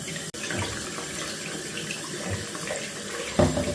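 Water runs steadily from a bathroom tap as a cloth is wetted, a continuous rushing hiss with a brief bump near the end, close and fairly loud, no talking.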